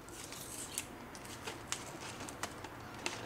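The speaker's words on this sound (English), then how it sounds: "Get that tape off." Tape being peeled and torn off a package holding a Hanayama Cast Chess Knight metal puzzle, a close, faint rustle with a few sharp crackling snaps spread through the clip.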